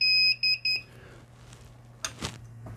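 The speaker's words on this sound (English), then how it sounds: "That beeping is just because the hard drive is not initialized, nothing else." A Hikvision DS-7208HGHI DVR beeps because its hard drive is not initialized: three short, loud, high electronic beeps in quick succession, followed by quieter handling noises and a low steady hum.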